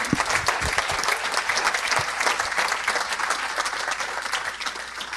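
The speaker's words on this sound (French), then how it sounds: "On peut l'applaudir encore une fois." An audience at the Breizh Awards 2023 ceremony gives sustained, dense applause, many hands clapping close and loud for several seconds before easing slightly.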